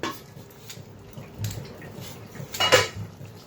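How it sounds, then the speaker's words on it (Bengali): Metal pan lid lifted and clattering against a cooking pan while frying chickpea and chhana fritters, a few sharp clinks with one loud ringing clang near the end. "তো এখন ঢেকে রাখবো, ঢাকনাটা উঠিয়ে দিই।"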